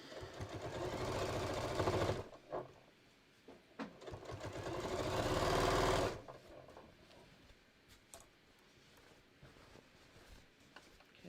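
Sewing machine stitching a shorts waistband, running in two sustained bursts with a pause between, followed by quieter handling noises.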